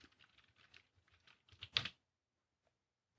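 Soft, quick keystrokes tap on a computer keyboard in a rapid uneven patter, ending in a slightly louder cluster before falling silent; faint and close, with no talking.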